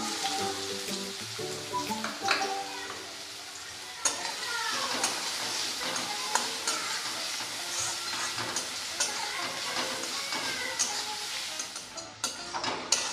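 Chopped onion hits oil left from frying mushroom and potato, giving a dense, steady sizzle with stirring scrapes, while faint music plays softly underneath.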